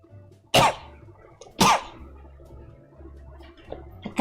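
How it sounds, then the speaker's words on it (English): A streamer painting an Ork Trukk model coughs twice, sharply and loudly, about a second apart. Quieter throat sounds and faint background hum follow. "I'm having the cough."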